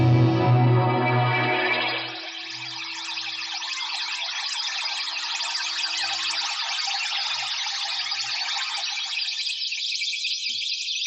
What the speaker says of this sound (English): suddenly we sound like we're in the middle of the Amazon forest somewhere with birds and water just going on all over the place